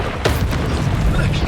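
Confringo fire spell blast in Hogwarts Legacy, a loud, dense booming burst that erupts near the start and rumbles on with crackling debris for about a second and a half.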